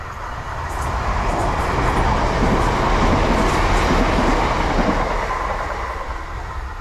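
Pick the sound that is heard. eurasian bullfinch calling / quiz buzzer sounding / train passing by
train passing by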